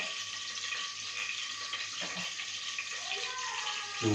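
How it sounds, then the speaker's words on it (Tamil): Ginger garlic paste sautés in a pot for biryani with a soft, continuous sizzle at low volume, a faint stir or scrape partway through, and a brief louder clatter at the end. "இஞ்சி பூண்டு பேஸ்ட் சேர்த்துக்கலாம். இந்த இதை வணக்கிக்கிறோம்."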